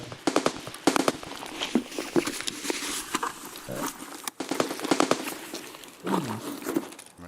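Rapid gunfire in the shooter game Escape from Tarkov, scattered sharp cracks and short bursts, some loud and close, others more distant, over a busy game background.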